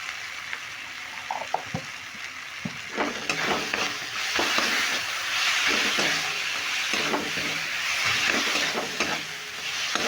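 Potatoes stir-fried with Kashmiri chili powder give a close, steady sizzle, broken by repeated scraping and clacking stirs that come in irregular bursts.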